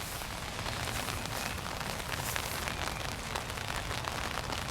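Heavy rain pours down outdoors, a steady, dense wash of noise that holds loud and even throughout, with no talk over it.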